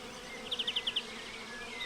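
Bees forage among spring blossoms, giving a brief run of six soft, evenly spaced buzzing pulses over a quiet outdoor background.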